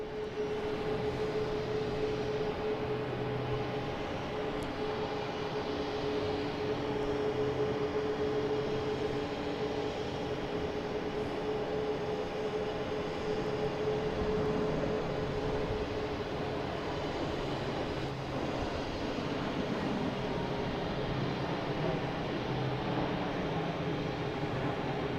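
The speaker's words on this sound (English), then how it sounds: "Now we have a JetBlue taking off in the JFK." A JetBlue airliner taking off at Boston Logan International Airport, a steady distant engine roar with a faint whine, even and unbroken throughout.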